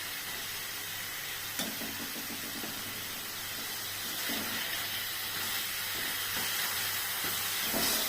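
Pabda fish curry cooks in oil in a pan, giving a soft, continuous sizzling hiss with faint scrapes and pops. No one speaks.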